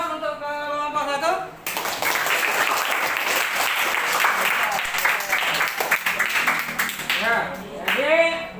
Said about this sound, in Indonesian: aplaus untuk kelompok 1